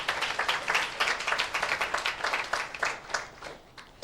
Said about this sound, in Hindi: चलिए अपने लिए एक जोरदार ताली बजा सकते हैं।